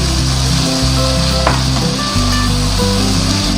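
Ground red chilli, turmeric and salt fry in a pan for nihari, a loud, continuous close-up sizzle with a faint scrape of stirring partway through.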